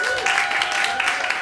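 Audience applause at the close of a Berklee continuing-education presentation, a steady, dense wash of many hands clapping at moderate loudness, with a faint tonal hum running beneath it.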